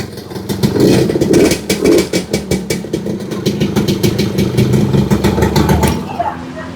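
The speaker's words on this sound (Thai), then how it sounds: "ฟังเสียงกันนิดนึง รถจอดไม่ได้ขี่นะครับ เครื่องแบบนิ่มๆนะครับเงียบๆเลย" A parked 1990s two-stroke motorcycle idles close by with a soft, steady, fairly quiet beat and light throttle swells, while someone talks over it throughout.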